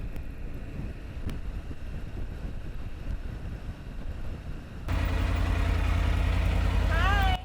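A breeze buffets the microphone on a Seattle ferry deck, a constant rushing roar over a low engine rumble that grows noticeably louder partway through.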